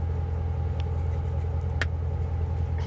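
A rat rod overland vehicle pulls away, its engine rumbling steadily and fairly close, with a brief sharp click partway through.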